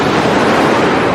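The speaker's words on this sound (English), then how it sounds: "the waves are so crashing hard" Ocean waves crash on a Florida beach with crystal-clear water, a steady loud wash of surf and churning water heard close up, with some wind buffeting and no talking.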